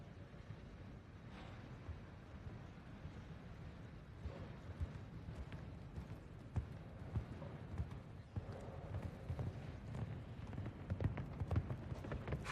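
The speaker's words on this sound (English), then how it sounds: "It's a horse that loves to run and jump" A horse gallops in a show jumping arena during the Rolex Grand Prix jump-off at CHI Geneva 2023, hoofbeats clip-clopping at a distance under a low, steady crowd and arena murmur.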